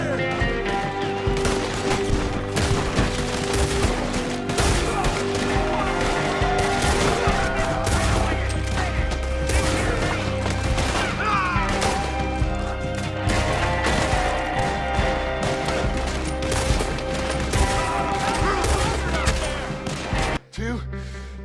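Dense, continuous gunfire from a Red Dead Redemption 2 firefight, rapid overlapping shots and volleys sustained loud throughout, with a sudden cut near the end.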